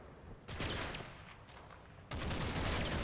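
Video game machine gun fire from Combat Mission: Battle for Normandy comes in two sustained bursts of rapid, crackling shots, steady and moderately loud over a noisy battlefield background.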